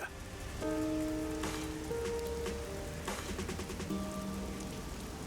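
Steady rain patters on surfaces in a neon-lit city district in the video game Rain Code, a continuous close hiss with soft music tones layered over it and no talk.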